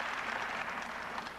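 A crowd in an arena applauds a men's pommel horse routine at a college gymnastics championship, heard as a steady, fairly distant wash of clapping with no gaps.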